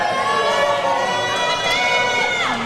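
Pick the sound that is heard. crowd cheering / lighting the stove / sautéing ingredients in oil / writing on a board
crowd cheering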